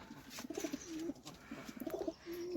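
Pigeons kept for sale coo close by in soft, repeated throaty phrases, several calls overlapping across the clip with no talk.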